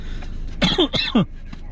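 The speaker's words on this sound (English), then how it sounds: "coughing from earlier meal" A person gives a couple of short, harsh coughs close up, with a throat-clearing quality, between brief quiet moments.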